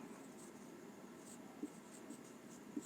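Pen or pencil scratching on paper during a Hindi grammar lesson, faint soft strokes with a few light taps, close and quiet.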